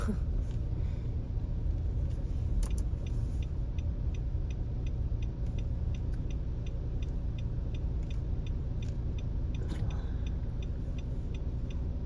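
A passing lorry rumbles steadily close by, a low continuous drone with a faint regular ticking running through it.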